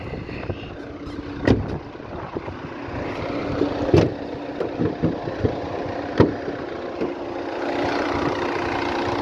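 A 2009 Opel Meriva 1.7 CDTI diesel engine idles steadily with a low, even rumble, punctuated by a few sharp clicks and knocks.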